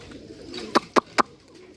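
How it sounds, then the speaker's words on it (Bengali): Pigeons, Rajshahi Giribaz type, cooing outdoors: a soft low murmur of calls followed by three sharp, evenly spaced sounds close by, with no talk. "ওই যে ডাকাডাকি করতেছে কবুতরগুলা"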